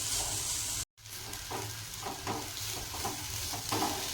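Ridge gourd peel fries in oil in a pan for chutney, a soft, steady sizzle broken by a brief silent gap early on, then repeated stirring scrapes in an uneven rhythm, with no one speaking.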